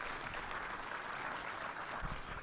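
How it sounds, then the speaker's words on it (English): Audience applauding the panelists at the close of a healthcare construction business session, a steady faint wash of clapping from a room of people, alone and brief. "Let's give one final round of applause to our panelists."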